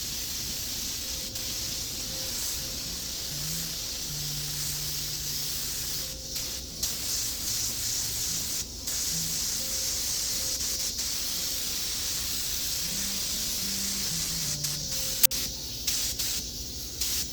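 Continuous steady spray hiss as a coat is sprayed onto the roof of a Hymer camper shell with a popup top, broken by a few brief pauses, fairly close and with no talking.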